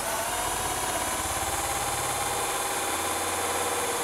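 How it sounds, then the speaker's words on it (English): A power drill boring a pilot hole through an interior door, a steady, continuous whirring drone held at constant pitch throughout, close and fairly loud with no pauses. "I want to stop when the pilot drill comes through the other side of the door."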